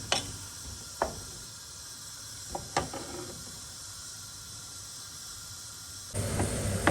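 Onions fry in three to four tablespoons of oil until brown for chicken haleem, giving a faint, steady hiss with a few soft ticks and pops. The sizzle swells louder near the end.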